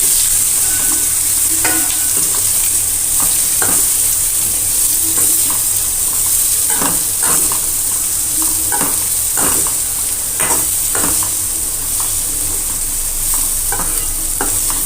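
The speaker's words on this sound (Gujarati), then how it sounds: "કટિંગ કરેલું કોબી ઉમેરી દેવાનું છે બરાબર મિક્સ કરશું" Chopped cabbage with cumin and turmeric being mixed and stir-fried in a pan, a loud steady sizzle with irregular scraping and tossing strokes close by, no voices.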